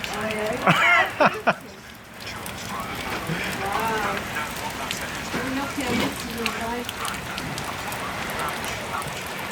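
Heavy rain keeps pouring steadily outside a shed under construction, a constant close hiss of drops hitting surfaces. A person talks over it.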